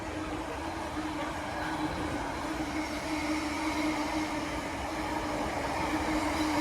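A freight train rumbles past steadily at Watford Junction station with a continuous metallic hum and rolling noise, loud and close, no voices.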